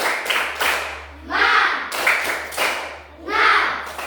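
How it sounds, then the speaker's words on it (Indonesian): Schoolchildren in a classroom clap together in a rhythmic chant during an ice-breaking activity, bursts of unison claps in repeating phrases with voices chanting between and over the patterns. "Tepuk semangat."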